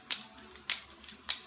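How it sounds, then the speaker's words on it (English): Acrylic nails click against each other during finger snaps: three sharp, dry clicks spaced evenly about half a second apart, close and isolated against a quiet background. "But what you're hearing is not the snap, it's the nail clicking on the other nail."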